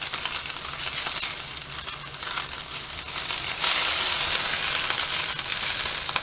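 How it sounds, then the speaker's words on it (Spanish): Garlic sofrito sizzling in a pan over the heat, a steady broadband frying hiss that swells louder partway through, with no voices over it. "Empezaremos con el ajo, lo sofreímos un poquito."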